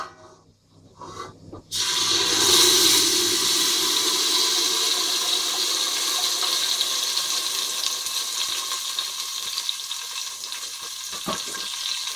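After a short quiet moment, blended tinned tomatoes pour into a hot pan with cumin and set off a sudden loud hiss, which then settles into a steady sizzle that slowly fades.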